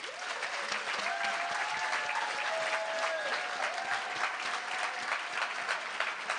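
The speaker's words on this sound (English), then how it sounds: "massive round of applause" Steady, dense applause from an awards ceremony audience fills the room, loud and sustained throughout without a break, with no talking audible over the clapping.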